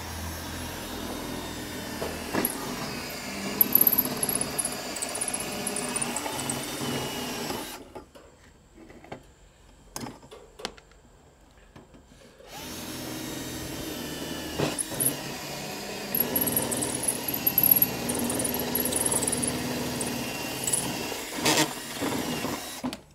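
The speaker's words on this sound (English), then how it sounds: "that's a 14 mil hole saw" A 14 mm hole saw drills through material while Legrand trunking is fitted, giving a steady whirring grind that cuts out for a few seconds midway, then starts again and runs on loud and close.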